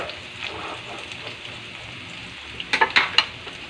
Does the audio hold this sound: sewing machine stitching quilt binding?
no